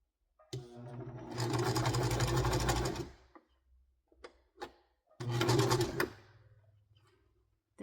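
A sewing machine runs straight stitches along a seam of thrifted dress pants in two close, brisk bursts of whirring with a pause between them, alongside a few quiet handling clicks.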